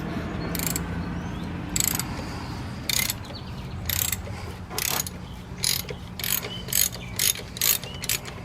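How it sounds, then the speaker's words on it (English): A ratchet fitted with a 24 mm deep well socket loosens the oil pressure sending unit on a Subaru 2.5L engine, making a series of quick clicking bursts that come faster toward the end. It is close and fairly quiet, with no talking. "Here we again got a 24 millimeter deep well socket."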